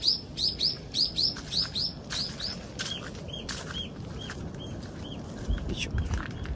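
A bird chirping outdoors, a rapid series of bright repeated chirps in quick bursts at first, then sparser calls over faint background hiss and rustling.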